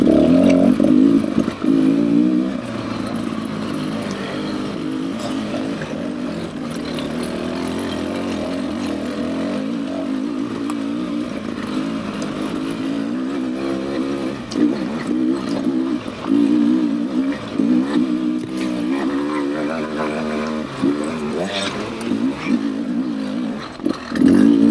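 A 2024 Beta 300 RR Race Edition or 2024 KTM 300 XCW dirt bike ridden on single track: a loud, close engine note held steady for most of the ride, with brief throttle blips and rises toward the end, and no talking.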